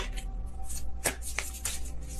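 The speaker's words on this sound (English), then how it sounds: "Kind of sloppy shuffle there." Tarot cards being shuffled by hand, a couple of quick riffling bursts and soft slaps of the deck, close and fairly quiet, with no talking.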